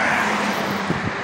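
Continuous roar of car traffic on a busy city street, loud and close throughout with a steady broadband rush of engines and tires.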